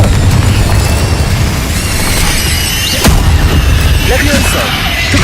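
A Confringo spell blast in Hogwarts Legacy bursts with a sharp mid-clip boom over a steady roar of game effects and music, with a fiery crackle trailing after it.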